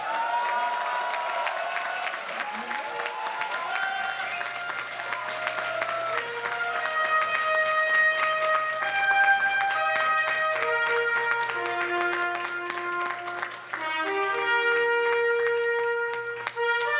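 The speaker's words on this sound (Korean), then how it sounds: "이탄희 전 판사를 박수로 맞아주시기 바랍니다." Audience applause welcoming former judge Lee Tan-hee at a Democratic Party recruitment announcement ceremony, a steady wash of clapping carried under loud, sustained music for the whole stretch.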